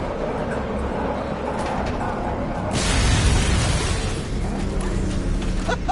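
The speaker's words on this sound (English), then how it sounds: "Explosion imminent." An explosion tears through a plant in the video game Batman: Arkham Knight, a sudden loud broadband blast about midway through that swells into a sustained rumble over steady game ambience.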